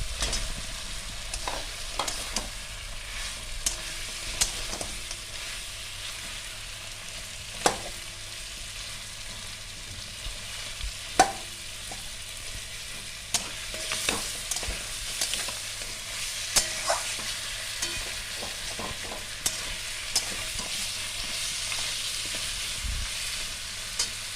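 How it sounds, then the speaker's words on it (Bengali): Fish heads fry with spices in a pan for muri ghonto, giving a steady close sizzle broken by scattered clicks and scrapes of stirring, with no talk. "এবার আমি ভেজে রাখা মাথাগুলো দিয়ে ভালো করে ভেজে নেবো"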